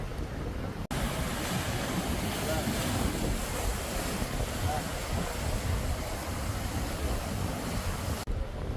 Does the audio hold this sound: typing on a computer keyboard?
no